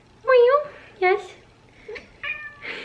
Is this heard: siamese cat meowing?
yes